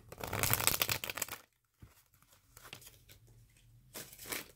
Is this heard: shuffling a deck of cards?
yes